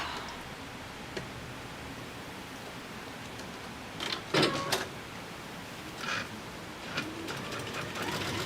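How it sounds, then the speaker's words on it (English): A sewing machine runs steadily across fabric, its motor giving a continuous mechanical hum close by. Brief louder clacks and rattles break in now and then, with no talking. "Getting started on the sewing."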